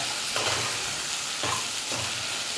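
Ginger garlic paste and masala fry in a pan for a boti gongura curry, giving a steady, close sizzle with about three scraping stir strokes over it and no talking.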